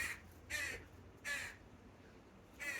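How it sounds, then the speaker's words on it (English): Crows give loud, harsh caws in three or four separate bursts spaced about a second apart, clear against a quiet outdoor background. "The crows are being so loud."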